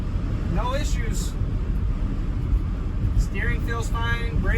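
Steady road rumble and engine drone from a 1962 Ford Fairlane 500 cruising down the highway, a continuous low roar with someone talking over it throughout.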